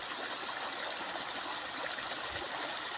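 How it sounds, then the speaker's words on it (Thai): Water runs steadily down from a rice field into a village pond, a continuous close rushing and trickling flow with no talk over it. "นี่น้ำไหลลงมาหนอง จากให้นา ลงมานี่"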